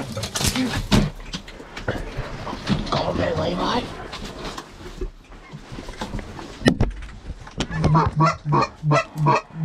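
Geese honking during a Wyoming duck hunt, a loud rhythmic run of nasal honks building near the end, mixed with hunters talking and handling gear outdoors.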